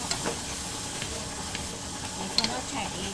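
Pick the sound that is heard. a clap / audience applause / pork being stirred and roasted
pork being stirred and roasted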